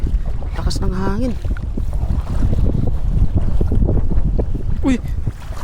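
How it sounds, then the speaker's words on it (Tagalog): Strong wind buffets the microphone on a boat riding along a river in Taiwan, a loud, continuous roar with gusts, while a voice speaks briefly near the start and again near the end. "lakas ng hangin."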